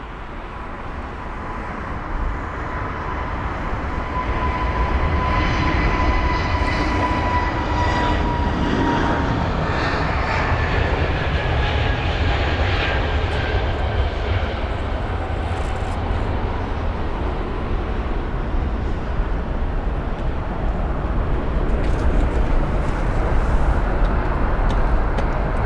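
A British Airways Airbus A320neo takes off at London Heathrow, its jet engines building into a sustained loud roar heard from a distance, with no talk.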